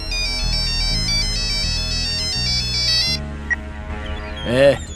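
A phone rings with a loud, repeating electronic melody that cuts off, followed by a brief voice.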